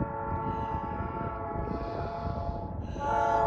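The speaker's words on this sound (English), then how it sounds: "So we're going to stay here and watch the train go by." Train rolling past outdoors with a steady, rumbling roar under a long, held multi-tone horn blast that swells louder near the end, with wind noise throughout.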